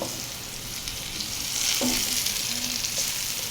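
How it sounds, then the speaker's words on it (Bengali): Potatoes frying in oil in a pan until reddish for a fish dish: a steady, close sizzle that swells slightly midway, with a couple of faint clinks and no talking. "আলুগুলো আলু লাল লাল করে বেঁধে নিব"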